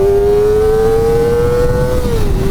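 A 2024 Kawasaki Ninja ZX-4RR motorcycle engine revs high and strong while accelerating, its rising whine close and loud, easing slightly at the end.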